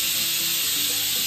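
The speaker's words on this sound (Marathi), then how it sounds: "फोडणी दिली भाजीला." Spices crackle and sizzle loudly and continuously in hot oil, tempering a simple potato vegetable dish in a home kitchen, heard close up with no voices.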